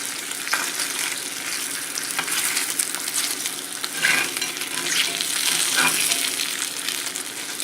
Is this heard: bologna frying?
yes